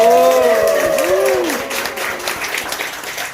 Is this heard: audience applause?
yes